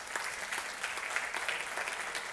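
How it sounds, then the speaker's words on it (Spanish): Steady applause from a church congregation, clapping evenly throughout at moderate volume. "Dele un aplauso al Señor por eso"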